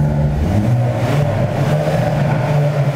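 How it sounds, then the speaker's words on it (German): A warm car engine is briefly revved in neutral, a loud, steady mid-pitched engine drone that swells slightly and holds throughout, with no talking. "wenn ich jetzt die N-Taste drücke und kurz mal ein bisschen Gas gebe"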